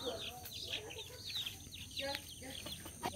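Chickens cluck softly around a rural farmhouse yard, a scatter of short faint clucks and chirps against a low background, with distant voices faintly present.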